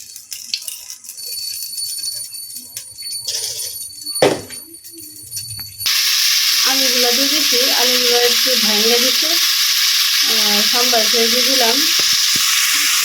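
Potato curry frying with dry panch phoron spices in a home kitchen, a strong steady sizzle that starts abruptly partway in and then holds loud and continuous, with earlier quieter clatter and a sharp clink before it.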